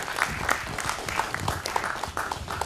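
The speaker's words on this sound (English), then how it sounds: "Big round of applause for him, please." Audience applause at an emotional intelligence and leadership summit and awards event, a steady dense patter of many hands clapping continuously for a couple of seconds, moderately close and without speech.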